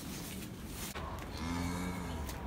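A cow on a farm on turnout day gives a low, drawn-out moo close by, partly covered by rustling and handling noise.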